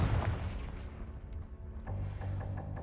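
A Confringo fire spell explodes in the video game Hogwarts Legacy, giving a dense, rumbling blast with a heavy low boom and crackling debris that fades, then swells again into scattered sharp bursts.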